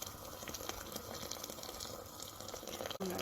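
Hot water poured over meat frying in a pot while cooking matbakh, giving a steady hissing, bubbling wash of sound that runs continuously at low level and ends with a brief change in the sizzle.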